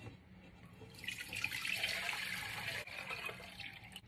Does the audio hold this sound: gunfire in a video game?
no